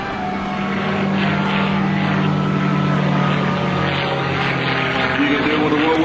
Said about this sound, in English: From the right, Mr. Jim Beasley, beautiful P-51 demonstrator point roll for us.